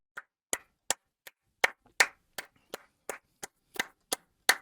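Hand clapping alone in a quiet space: about a dozen sharp, separate claps at an uneven, deliberate pace, close and crisp with silence between each.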